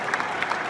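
A stadium crowd applauds after the Wydad vs Al Ahly African final in Morocco, with a dense, steady wash of clapping and crowd noise throughout the brief moment.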